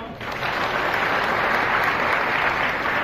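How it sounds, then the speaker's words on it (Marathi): A large outdoor crowd at a BJP political rally breaks into sustained applause, dense loud clapping swelling in quickly and holding steady throughout. "मोदी साहेबांच्या साठी एकदा टाळ्या वाजवा."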